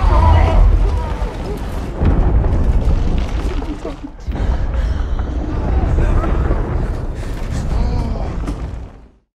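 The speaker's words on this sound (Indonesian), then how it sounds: "Tiba-tiba artileri musuh nyerang." Heavy enemy artillery bombardment from a war film, deep continuous booms and rumbling blasts with creaking debris, loud and sustained with a short lull, then fading out at the end; no clear talk over it.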